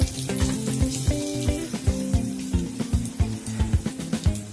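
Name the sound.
whole spices frying in hot oil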